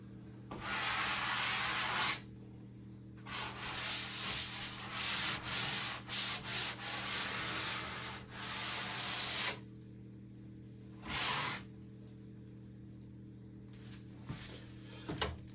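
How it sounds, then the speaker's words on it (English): Hand sanding of a dried drywall compound patch over a repaired hole, rough scraping strokes in bursts of one to three seconds, close and fairly loud, with pauses between them and a steady low hum underneath. "So a little bit of sanding, but not much."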